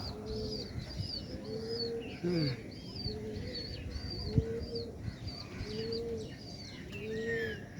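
Pigeons coo repeatedly in the early morning, soft rolling calls in a steady rhythm, with higher chirps from other birds and a brief wing flutter in the background.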